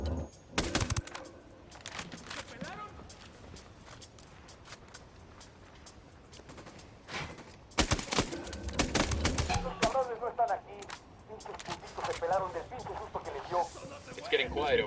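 Bursts of gunfire from a firefight in the video game Ghost Recon Wildlands, loud sharp volleys in separate clusters, with game dialogue and ambient sounds in between.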